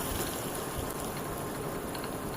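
Spice paste with yogurt cooks in a pan, giving a steady, close bubbling and sputtering hiss that runs evenly throughout before cutting off at the end.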